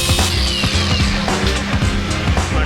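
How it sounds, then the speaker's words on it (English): An angle grinder cuts away welded steel on the frame of a scratch-built 50 HP F150 Power Wheels, a loud, steady grinding whine with rough bursts, close up and alone for under three seconds. "So I'm gonna grind that away real quick."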